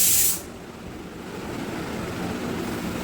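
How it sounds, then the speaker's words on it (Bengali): A pressure cooker vents steam with a loud, brief hiss that cuts off after a moment. A softer, steady noise from the home kitchen continues underneath during the Ashtami meal preparation. "প্রেশার কুকারে সিটি পড়ছে আর আমি এখন বসে রয়েছি।"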